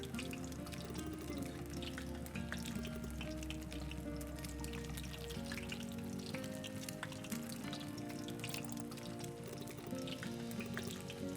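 Fried chicken dropped into cooking oil in the convenience-store game Inkonbini, a steady dense sizzle and crackle heard over soft background music with no talking.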